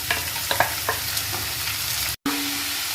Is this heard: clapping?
no